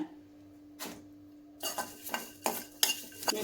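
In a pan, curry leaves and dried red chilies are roasted for an Andhra-style lentil powder. A near, quiet sequence of sharp pan and utensil knocks and scrapes arrives in irregular bursts, separated by faint crackling and sizzling.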